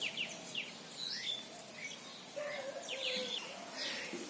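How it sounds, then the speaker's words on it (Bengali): Faint clucking and chirpy calls from chickens, scattered bursts over a quiet outdoor background. "আমাদের মুরগিগুলো বসে আছে, আর আমাদের দেখা মাত্র মুরগিগুলো দৌড়ে পালাচ্ছে দেখুন, কারণ আমার সাথে আবার রায়হান বাবু আছে।"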